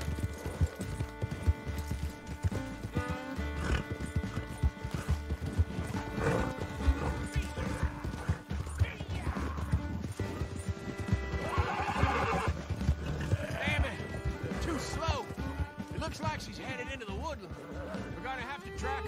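In the Red Dead Redemption 2 video game, a horse gallops with continuous hoofbeats and neighs several times over about twenty seconds, with a crash in the middle and voices talking throughout.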